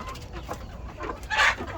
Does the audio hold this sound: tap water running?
no